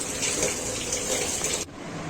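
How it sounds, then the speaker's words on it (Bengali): Mangoes washed under a running tap, a steady close gush of water that cuts off abruptly near the end, leaving only a fainter trickle. "আমগুলো খুব পরিষ্কার করে ভালোভাবে ধুয়ে নিচ্ছি"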